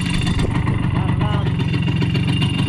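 A Simson moped engine runs close by with a rough, steady putter and slight revving, while people talk over it.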